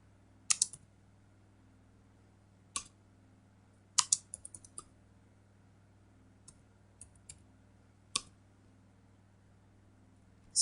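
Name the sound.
typing on a computer keyboard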